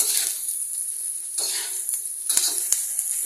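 Food frying in a pan on a gas stove until golden brown gives off a steady, bright sizzling hiss, with a few brief scrapes and clinks breaking through near the end.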